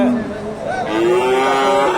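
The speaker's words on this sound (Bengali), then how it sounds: "প্রচুর বকনা গরু আছে এখানে সুন্দর দুইটা বকনা দেখতেছি" Friesian heifer cattle at a livestock market give a long, loud mooing call lasting the whole two seconds, with a faint murmur of market crowd behind.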